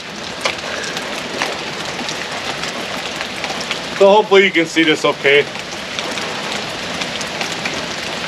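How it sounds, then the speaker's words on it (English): Rain falling steadily outside by a garage being sided, a continuous soft hiss throughout, briefly masked by someone speaking in the middle. "as soon as I was going to start filming, it started raining again"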